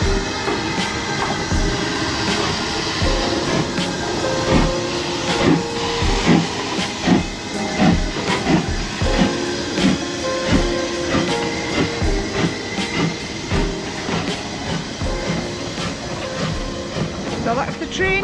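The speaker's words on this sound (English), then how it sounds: "So that's the train leaving for Hathwaite" A train pulling out of a station in the Lake District, bound for Haverthwaite, gives a steady loud rumble with hissing and clanking throughout, with some talk in the background.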